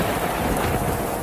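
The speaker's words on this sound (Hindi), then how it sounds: "देखो देखो किस तरह बिजली कड़क रही है।" Thunder and heavy rain in a Hindi bird cartoon, a dense steady wash of rainfall with a low rumbling roll, loud and continuous throughout.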